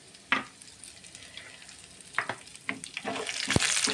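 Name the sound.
garlic cloves frying in oil with chana dal and cumin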